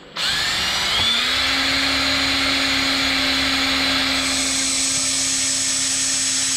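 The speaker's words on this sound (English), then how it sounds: "Boy, that's a sharp drill bit" A power drill with a sharp bit whines loudly and steadily, its pitch rising as it spins up and then holding a constant high buzz.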